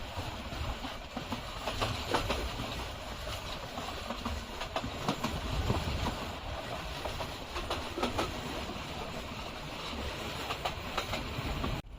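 Titas Commuter train running on rails between Dhaka and Brahmanbaria in Bangladesh, heard from aboard as a steady loud rumble with continuous rhythmic clickety-clack of wheels, no talking.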